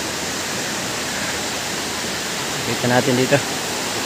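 Steady broadband rush of Abungan Falls waterfall in Dingalan, Aurora, filling the whole clip at an even level, with a brief burst of talking near the end.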